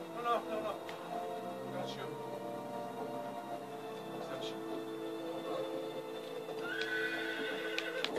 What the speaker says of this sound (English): Oh, ride the horse.